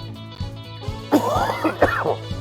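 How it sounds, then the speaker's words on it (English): A few rough coughs and throat-clearing bursts, close and fairly loud, over a steady low hum. "I'm so sorry for this coughing."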